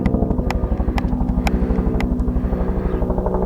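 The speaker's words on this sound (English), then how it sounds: "This one's loud, you can hear its rotor." Sheriff's department helicopter passing overhead, its rotor giving a loud, steady rhythmic thumping throughout with a constant turbine drone beneath.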